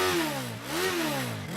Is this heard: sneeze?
no